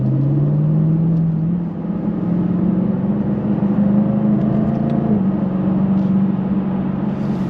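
A Jaguar F-Type P450 with rear-wheel drive accelerates hard, its engine a loud, close, sustained roar whose pitch climbs steadily over several seconds.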